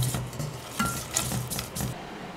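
A roux of browned butter and flour is stirred in a pan as it cooks gently for a béchamel. The soft scraping strokes are quiet and irregular, over a faint sizzle, with no talking.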